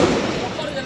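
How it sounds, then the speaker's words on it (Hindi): Firecrackers and fireworks going off during a Diwali celebration, a dense, continuous crackling roar filling the whole moment, with people talking loudly underneath. "पटाखों की इतनी ज्यादा आवाज है ना कि कोई सुनाई नहीं दे रही होगी यहाँ से"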